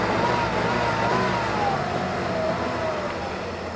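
A 1989 Lincoln Town Car engine revs as the throttle is snapped open, a steady mid-pitched engine roar heard up close that holds for a few seconds and then eases slightly.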